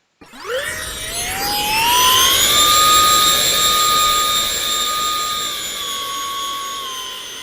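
Simulated RC aircraft engine in the RealFlight 9.5 flight simulator game spools up from silence into a loud, steady high-pitched whine that rises in pitch during takeoff and then holds, with no talking.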